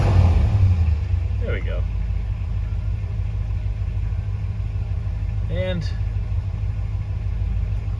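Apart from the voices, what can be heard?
1966 Pontiac Catalina 389 V8 engine idling down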